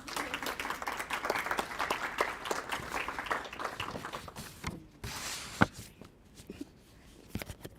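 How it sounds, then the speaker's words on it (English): Audience applause for an award winner at a student literary magazine unveiling, a moderate, fairly close burst of clapping that fades into a few scattered claps and footsteps. "All right, round of applause."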